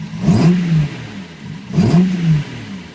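A Star Road Datsun Fairlady S30Z with a 360 hp engine and lightened flywheel blips its throttle twice, each rev rising sharply and falling quickly, heard close by with a short idle gap between the two bursts.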